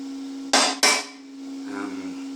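A chipping hammer knocks slag off an MMA stick weld, two sharp metallic strikes in quick succession followed by a brief faint scrape, close and loud over a steady electrical hum.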